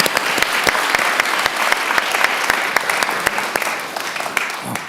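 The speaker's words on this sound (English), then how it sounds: "So let's give him a round of applause." Audience applause at a community summit, a sustained wash of many hands clapping steadily and fairly loud, with a few sharper individual claps standing out, tapering slightly toward the end.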